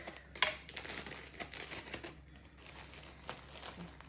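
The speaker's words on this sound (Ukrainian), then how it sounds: "Закривати пакетик." Soft crinkling and rustling of a plastic bag of breadcrumbs being handled and sealed for the freezer, with one sharper crackle near the start, close by and fairly quiet.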